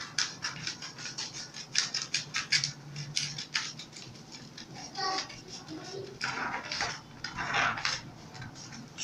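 Scissors cutting a paper blouse pattern along a straight dart, a run of quick crisp snips and rustles of paper, close up, with a voice talking softly at times.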